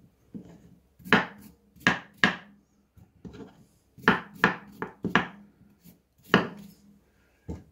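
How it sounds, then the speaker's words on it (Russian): Knife chopping potatoes on a board, a blunt blade striking in short bursts of two to four quick cuts separated by brief pauses, close and crisp with no talking. "Так, картофель я порезал."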